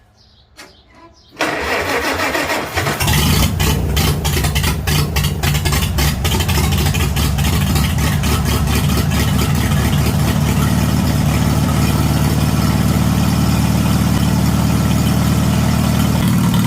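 A small gas engine that has not been choked starts after a brief quiet pause. It catches quickly and settles into a loud, steady idle with an even rhythm and no surging, close to the listener.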